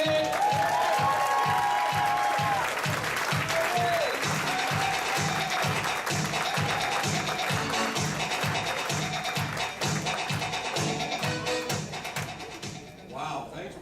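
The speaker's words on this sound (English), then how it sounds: "give it up, clap really loud for Odie Bucholz" A comedy club audience at Morty's applauds comedian Odie Bucholz, sustained dense clapping that slowly fades near the end, with a rhythmic thumping beat and a voice speaking over it.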